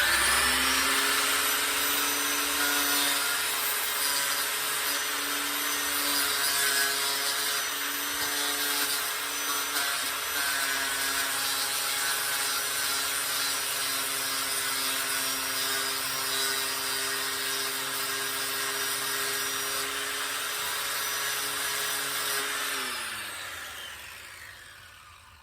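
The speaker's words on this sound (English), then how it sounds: "I'm gonna sand it a little bit." A power sander works on knife handle scales of micarta for a linerlock folding knife, a steady loud whine and grinding hum held close for over twenty seconds before winding down at the end.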